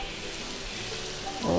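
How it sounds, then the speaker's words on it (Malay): Steady soft sizzling of butter melting in a hot wok fills the clip, with a faint scrape near the end. "Untuk first kita cairkan mentega dulu."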